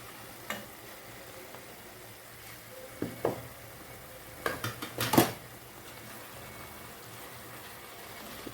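Fried fish placed into a simmering curry sauce with tomato and tamarind water in a pan, giving a few faint clinks and stirring scrapes of utensil against pan over low background quiet.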